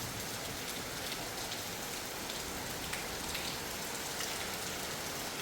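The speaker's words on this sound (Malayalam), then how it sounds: "മഴ കാണാം." Steady rain falls on a home property in Kerala during a rainy day, a dense, even hiss of drops hitting surfaces. It stays constant and fairly soft throughout, with no voices.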